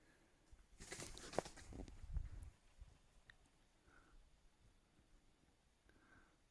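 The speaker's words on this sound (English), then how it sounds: "That was probably a pigeon" A brief burst of wing flapping, like a pigeon taking off nearby during a night walk in Pembrokeshire, Wales, followed by quiet background with faint distant chirps.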